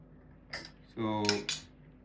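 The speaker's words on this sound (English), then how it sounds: "First I stir it just a little bit" A spoon stirs raw organic unsweetened salad with homemade dressing in a bowl, giving a few short, close scraping and clinking strokes with brief pauses between them.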